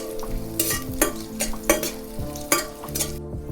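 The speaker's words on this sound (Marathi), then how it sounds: "आता हिरव्या मिरच्या टाकून घेते आता हिरव्या मिरच्या पण चांगल्या परतून घ्यायच्या" Green chillies and garlic sautéing in a pan, a continuous sizzle with rhythmic scraping and clanking strokes of a spoon roughly every half second, close and without talk.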